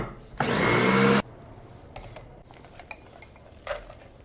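An electric grinder whirs through pepper, onion, garlic cloves and mint leaves in one loud, harsh burst of just under a second. Quieter clinks and knocks of kitchenware follow.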